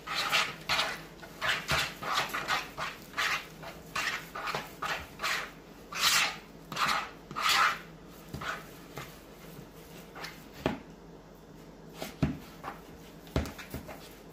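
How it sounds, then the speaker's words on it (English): A fork mixing fathead pizza dough with cream cheese in a bowl, heard as close, rhythmic scraping and clinking strokes that repeat steadily, then thin out into a few scattered taps with no talking. "I'm just going to take the fork, mix it up, get that cream cheese."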